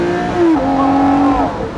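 A Lamborghini Murcielago LP640 Roadster's engine revs up, its pitch climbing and holding in a loud, close, sustained howl that lasts under two seconds.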